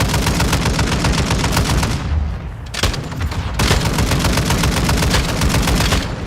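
Loud, rapid video game gunfire rattles in dense automatic bursts, breaking off briefly near the middle before the sustained shooting resumes.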